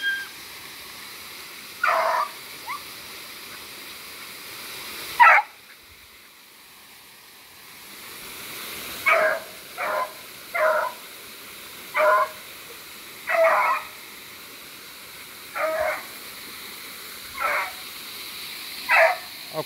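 Hunting dogs on a paca hunt bark in the distance, a series of short separated barks and yelps repeating at irregular intervals over a faint outdoor hiss.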